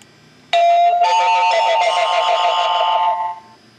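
Doorbell chime played loudly through a speaker, distorted and buzzy, sounding as two overlapping tones that hold for nearly three seconds before cutting off.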